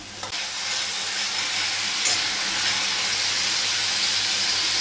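Two slit green chillies sizzle steadily in hot oil in a pan while cooking a pabda fish curry with aubergine, a continuous bright frying hiss that stays fairly loud and even throughout with no talking.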